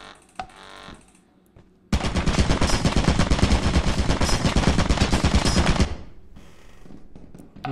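Rapid automatic turret gunfire in the video game Lethal Company rattles continuously for about four seconds, loud and close, after a quieter start with faint electronic tones.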